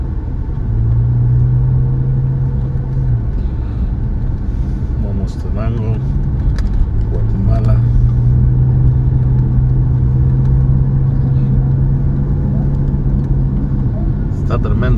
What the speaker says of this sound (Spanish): tremendo el tráfico en los dos lados.